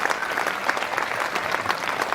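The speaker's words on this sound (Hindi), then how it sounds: "एक बार जरा दोनों हाथ हवा में उठाकर तालियां बजा के मुझे अपना आशीर्वाद" Audience applause at a Hindi kavi sammelan poetry recital in Udaipur, a dense, steady roar of many hands clapping that fills the whole stretch without any voices over it.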